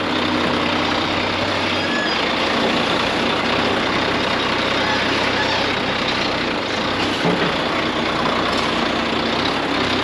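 A lorry arrives at a farm to collect straw, its diesel engine rumbling loudly and steadily nearby for the whole stretch, with a broad, rough noise and a low idling drone.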